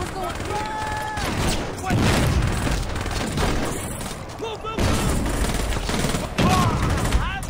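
A grenade blast and bursts of gunfire in the Saints Row video game, with dense, loud, continuous combat noise throughout and heavy booming impacts, while someone talks over the action.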